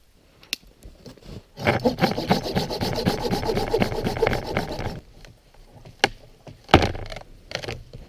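A blade saws back and forth through frozen firewood at a winter bushcraft camp, producing a few seconds of close, raspy scraping with scattered knocks of wood before and after.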